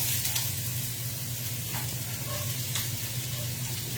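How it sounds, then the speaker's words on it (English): Beef searing in a very hot pan, cooked fast for a breakfast of grass-fed hanger steak, gives a loud, steady, continuous sizzle that runs alone throughout with no voices. "That beef pan's nice and hot, so get that in real quick."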